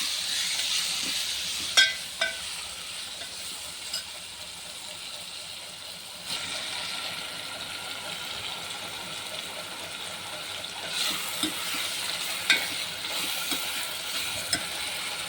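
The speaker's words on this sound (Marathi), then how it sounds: "टोमॅटो बारीक चिरलेले आणि खोबरं खीस ते मी याच्यात टाकणार आहे" Finely chopped tomatoes and grated coconut are stirred in a pan, giving a soft continuous sizzle and hiss broken by a few scraping stirs and light clinks, fairly quiet.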